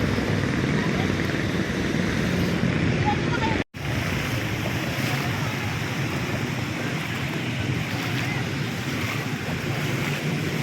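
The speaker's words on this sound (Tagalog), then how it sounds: "Lakas po ng tubig mga kauban." Floodwater rushes loudly and continuously, a dense roaring wash with a brief dropout partway through, while voices talk faintly underneath.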